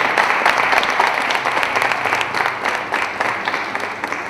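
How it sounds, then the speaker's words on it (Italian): Sustained, steady applause from a festival crowd honoring a family's laid San Giuseppe table, many hands clapping evenly and fairly loud throughout with no pause. "Potremmo fare anche un applauso perché hanno fatto una tavola meravigliosa"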